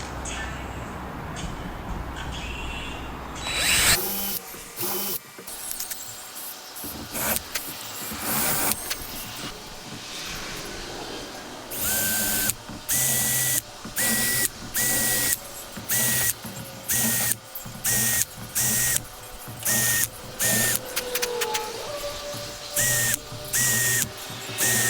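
A power drill drives one-inch screws into wood while a concrete hearth for a wood stove is being built: repeated short bursts of whirring motor, each stopping abruptly, in a steady run of about a dozen drives, loud and close with no talk.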